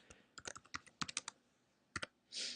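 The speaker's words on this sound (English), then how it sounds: "I'm going to just type in" Typing on a computer keyboard while entering text into a WordPress post editor: quick bursts of crisp, close key clicks, a pause, two more taps, then a softer rustle at the end, with no talk.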